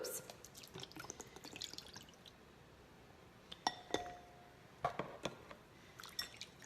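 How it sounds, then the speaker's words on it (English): Water poured from an emptied glue bottle while mixing slime for a preschool activity, heard as faint, sparse splashes, drips and light clinks against a container in a quiet room. "And then I, again, use the same glue bottle, and I pour the water in."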